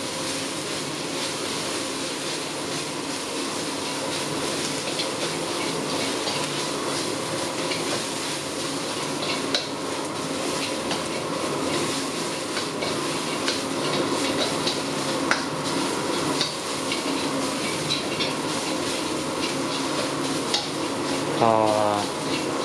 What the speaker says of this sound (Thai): เครื่องที่เราตำไว้นำลงผัดให้หอมเลยครับ ให้ใช้ไฟอ่อนนะครับ